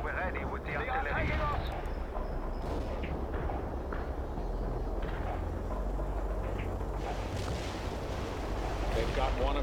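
Artillery fire in a war video game, with heavy booming blasts rolling continuously through a dense, loud battle din, while voices talk over the noise.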